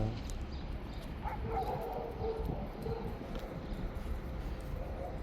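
Faint whimpers and soft yips from dogs over a noisy outdoor background, with scattered light taps.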